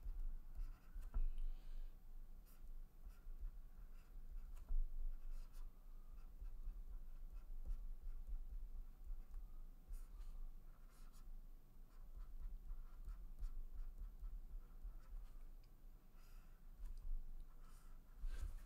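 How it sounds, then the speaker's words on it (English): During an engineering lecture on column design, someone writes out a calculation, producing faint, steady scratching with occasional taps and clicks. It is quiet and close by, with no speech. "what I'm going to do is write it in terms of H"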